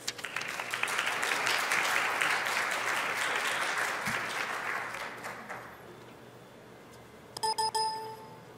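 A conference audience applauds a keynote speaker, a dense wash of clapping that swells and then slowly thins out over several seconds, followed by a few brief electronic tones.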